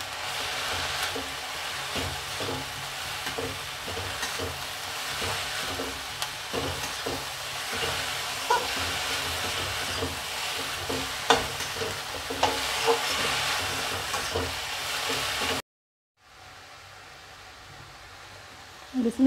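Vegetable spring roll filling is stirred and tossed in a hot pan with steady sizzling, scraping and clinking, then the sound cuts to near silence near the end.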